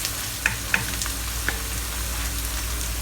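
Shallots frying in oil in a Shogun by Gourmet non-stick pan while cooking Taiwanese oyster mee sua, giving a steady close sizzle with a few sharp crackles and pops.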